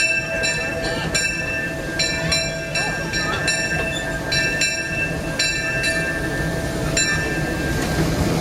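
A 5/8-scale steam train on the Disneyland Railroad chugs along steadily with repeated whistle-like tones and rail clatter, people talking faintly in the background.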